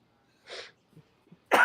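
A single short sneeze near the microphone, followed by faint breaths and a sharp burst at the end.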